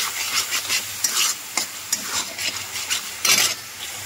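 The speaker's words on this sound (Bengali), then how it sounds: "এবার আবারও মশলাটা আমি একসাথে ভালো করে কষিয়ে নেব।" A spice paste with turmeric and salt sautés in a pan, a constant sizzle broken by a run of scraping stirring strokes, close and fairly loud.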